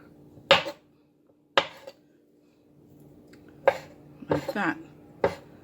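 A knife cutting cooked meat into small squares, heard as a handful of sharp, separate taps and chops against a board spaced across the moment, with a brief spoken remark near the end.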